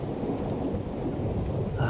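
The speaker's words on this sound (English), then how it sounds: "Mjolnir's lightning would dance around and the thunder would crash" Thunderstorm with heavy rain pouring steadily and a deep rolling rumble of thunder underneath, loud and continuous, with a brighter swell at the end and no voices.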